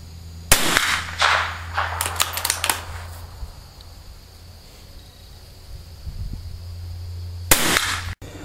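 An old .22 long rifle fires at a target 50 yards away. A sharp close crack sounds, then several quicker snaps follow, and after a pause of a few seconds one more loud shot rings out over a steady background hum.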